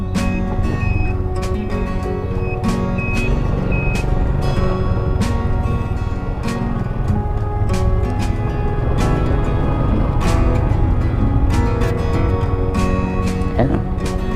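Heavy trucks rumbling continuously nearby while a bright reversing alarm beeps again and again at a steady pace, with people talking over the traffic noise.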